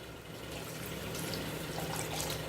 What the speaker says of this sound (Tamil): எக்ஸ்ட்ரா தேவையான அளவு தண்ணி ஊற்றிக்கலாம்.